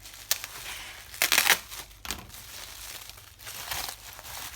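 Paper crinkles and rustles close up as a swap parcel is unwrapped, in several short bursts of crumpling and tearing separated by quieter pauses.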